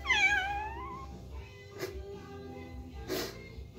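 A cat meows once at the start, a rising and falling cry during a bath in a tub, followed by quieter bathroom noises and a couple of short splashy bursts.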